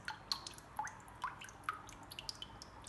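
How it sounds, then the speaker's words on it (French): Liquid trickles slowly from a small hole punched in a can, coming out as scattered soft drips and splats at an uneven pace, faint and close, with no talking. "J'ai fait une petite ouverture sur la boîte, c'est pourquoi ça s'écoule de façon très lente."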